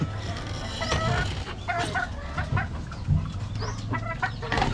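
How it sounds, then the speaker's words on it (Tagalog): A black Malsim hen clucks repeatedly on a farm. Short bursty calls overlap with other fowl and yard noise against a steady low rumble. "Yan yung nanay ng mga black na sisiw natin."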